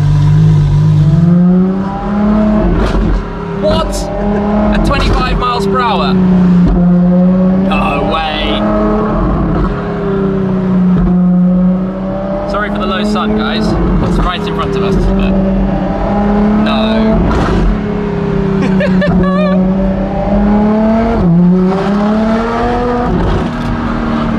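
A Ferrari LaFerrari with a straight-pipe exhaust burbles at a loud, rough idle with occasional blips of revving, while people talk over the deep exhaust rumble.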